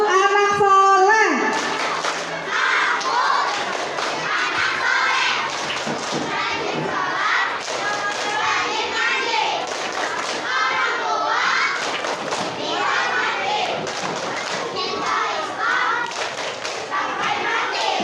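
A crowd of schoolchildren at a Maulid Nabi gathering claps and chants together in a loud, rhythmic, busy burst, with young voices overlapping the steady patter of hands throughout.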